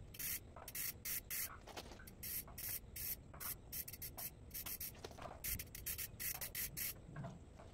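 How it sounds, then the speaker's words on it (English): Spray gun laying a third and final coat of shellac on a custom display counter, heard as repeated short bursts of loud hissing spray, on and off in quick rhythm, close up with no talking. "it's time for a third and final coat of shellac"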